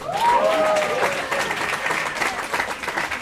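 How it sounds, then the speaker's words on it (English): Loud, steady audience applause and cheering fills a stand-up comedy show, with a brief whistle-like cry near the start and the clapping sustained throughout. "Give yourselves a round of applause, man."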